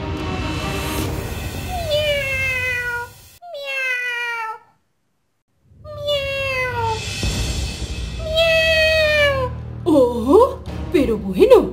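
Cartoon cats from an animated children's episode meow again and again in high, sliding cries, with short pauses and a brief silence partway through, over a busy background.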